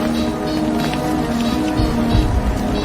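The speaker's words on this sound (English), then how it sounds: "I've never seen it rain and snow at the same time." Heavy rain mixed with snow in a violent storm near a wrecked P-47 aircraft in an action film, a loud, continuous wash of precipitation with low rumbling gusts.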